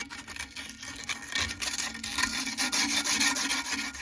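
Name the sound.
sanding a motor shaft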